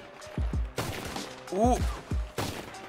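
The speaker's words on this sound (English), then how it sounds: "I need to start judging people's weapon sounds when they're shooting at me" Several sharp gunshots from a semi-automatic pistol in Red Dead Online, fired in bursts roughly every second, loud and close, with a person speaking briefly between the shots.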